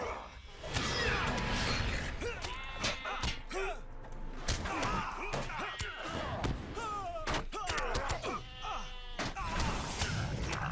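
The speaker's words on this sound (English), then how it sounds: "Here are the sheep." Sheep bleating repeatedly in the game The Lord of the Rings Online, over a busy, cluttered game soundscape with thuds and scattered effects.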